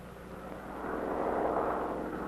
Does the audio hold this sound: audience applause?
no